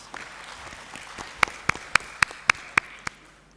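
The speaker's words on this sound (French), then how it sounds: "Je voudrais qu'on salue et qu'on applaudisse pour les organisations du forum." Audience clapping at a youth skills forum in Mauritania: a short run of about eight sharp, evenly spaced claps stands out clearly over a faint background murmur.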